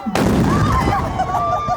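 A single deep cannon boom, loud and sharp at the start, rolling out into a long echoing rumble across open space.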